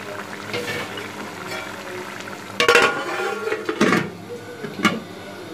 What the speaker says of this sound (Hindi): तो अब मैं इस पर लगाऊँगी ढक्कन और इसको पाँच मिनट के लिए हल्की आंच पे पकने दूँगी